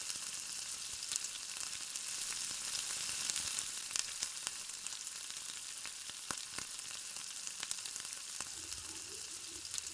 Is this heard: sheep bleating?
no